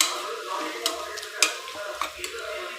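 Cinnamon-clove powder sautéing for vegetable biryani, with soft stirring scrapes and a few sharp spoon taps against the pan over a low, steady sizzle, close and fairly quiet.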